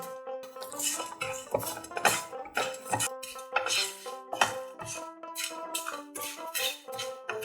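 Cumin, coriander and other whole spices for chat masala are tossed together in a pan, producing busy rattling and scraping of a utensil against metal, with irregular clinks and rustles running continuously.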